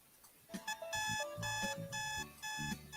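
An alarm clock rings as a sound effect, a bright electronic melody of repeated beeping tones that sounds steadily for about three seconds, close and clear with no talking.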